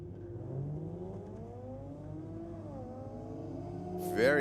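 Nissan 370Z and inline-six R32 Skyline drag racing at night, engines droning and rising in pitch as they pull away down the strip, heard from a distance at moderate level, with a sharper burst right at the end.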